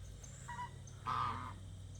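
Geese calling outdoors, two honking calls: a shorter one followed by a longer, louder one, both at moderate distance over quiet background noise.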